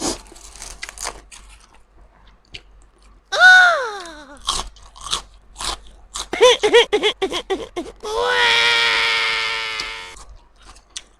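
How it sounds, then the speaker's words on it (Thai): Crispy fried wonton bitten and chewed up close, with sharp crunchy bites and rapid crackling chews in short bursts, broken by a few brief spoken sounds. "กัดเกี้ยวเขานี่กรอบมากเลยนะคะ"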